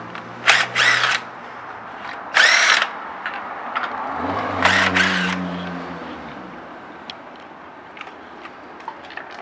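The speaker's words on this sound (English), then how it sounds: "you can remove the lug nuts. You can use a drill or socket" Power drill spinning off the lug nuts on a 2015 Mustang wheel: three loud whirring bursts, then a softer run of the tool, with faint clicks and a quiet tail and no talk.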